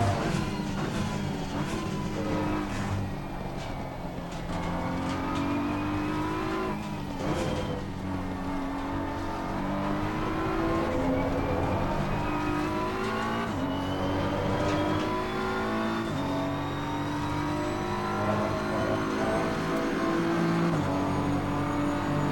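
A BMW M4 GT3 race car in Assetto Corsa at Silverstone roars continuously, its engine note climbing through the gears with sharp shifts and dips as it brakes and accelerates, loud and close throughout.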